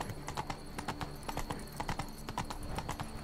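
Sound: horse Roach galloping in video game The Witcher 3 Blood and Wine

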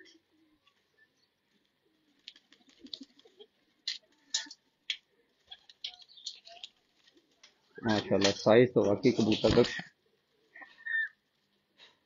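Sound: pigeons cooing

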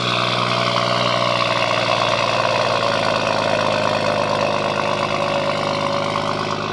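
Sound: BMW M140i 460bhp engine cold start and idle

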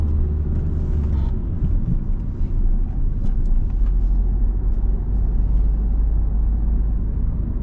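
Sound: car accelerating through the gears

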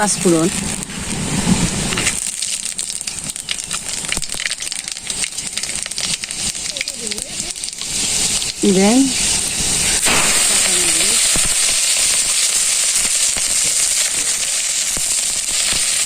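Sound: spices sizzling as they are added to hot oil for frying

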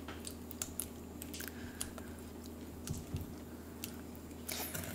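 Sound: stirring molasses crinkle cookie batter

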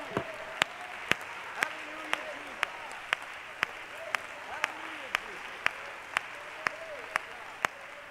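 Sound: church congregation clapping

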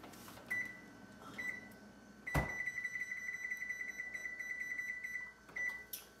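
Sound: oven control beeping while turning oven up

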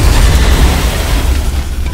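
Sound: grenade explosion in the video game XCOM Enemy Within

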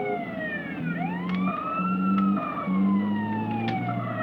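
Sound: ambulance siren in video game GTA San Andreas

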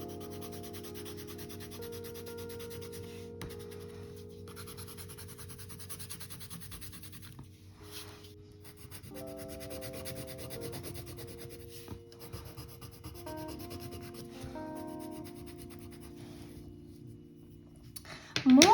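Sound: coloured pencil shading on paper, laid horizontally

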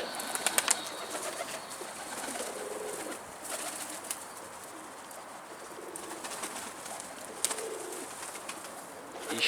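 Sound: pigeons arriving at the coop

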